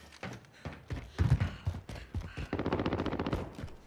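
Light machine gun fire in Call of Duty Warzone, loud close bursts of rapid shots with a sustained rattling burst near the end, no talking over it.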